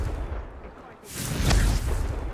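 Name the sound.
Confringo spell explosion in a wizard video game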